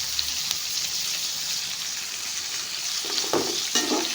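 Onions and tomatoes for a mango and drumstick sambar sauté in a pan, sending up a soft, steady sizzle with a few scraping stirs near the end, and no voices.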